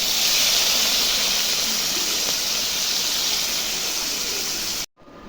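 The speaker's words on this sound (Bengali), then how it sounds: "এখন আরও কিছুটা মাছ আছে, ওটা ভেজে নিচ্ছি।" Fish frying in hot oil makes a continuous dense sizzling hiss, loud and close, that cuts off abruptly near the end. No one speaks.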